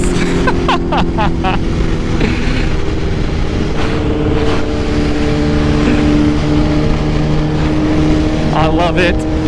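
A BMW S1000RR sport motorcycle accelerates hard through second and third gear, its loud engine howl rising steadily and close over rushing wind, with brief clicks around the shifts.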